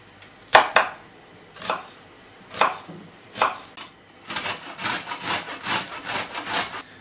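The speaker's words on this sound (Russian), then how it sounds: "Лук мелко режем, а морковку трем на терке" A knife chops onion finely on a board with a few sharp, spaced strokes, then a carrot is rubbed quickly against a grater in a steady rasping rhythm, close and clear with no talk.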